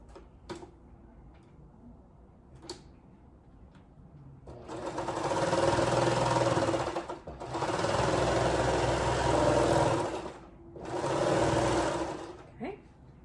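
A sewing machine stitches a yoga waistband onto pants in three long, steady whirring bursts separated by short pauses, loud and close. A few faint ticks come before the stitching starts.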